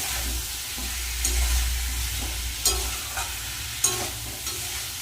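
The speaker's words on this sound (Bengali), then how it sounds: "হলুদ মশলাটা ভালো করে কষিয়ে নেব" Turmeric spice paste sautéed in a pan for a thin bata fish curry: a low, steady sizzle with occasional scraping stirs of a spoon against the pan.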